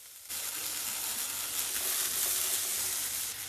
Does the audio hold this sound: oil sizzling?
yes